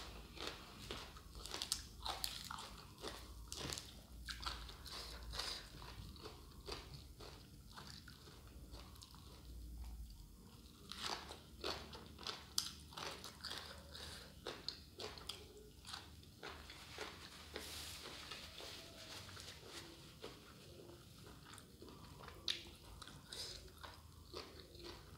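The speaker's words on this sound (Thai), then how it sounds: "ตำบักฮวงเสียนใหญ่มันแซ่บเลยพี่น้องมันกรอบดีหยำกรอบกรอบกรอบ" Crunchy biting and chewing of a spicy Lao-style pounded cucumber salad, close to the mic, with irregular wet crunches repeating steadily throughout and no talk.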